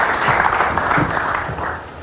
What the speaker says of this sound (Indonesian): Kita beri tepuk tangan untuk Nihaya